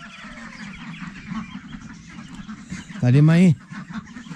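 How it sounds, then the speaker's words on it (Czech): A flock of about sixty ducklings of mixed sizes, chirping faintly in the background while a person talks, then a sudden loud nasal honk or quack close by. "Přibližně 60 kachniček."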